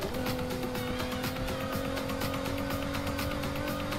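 Off-road car with a V6 engine driving in the racing game Need for Speed Heat, a steady engine drone holding a constant pitch for the whole stretch, loud and continuous with faint scraping underneath.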